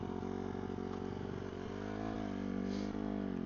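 A 2008 Honda CRF150R dirt bike engine runs at a deliberately high idle, a steady, close, continuous buzzing drone holding level throughout with slight swells.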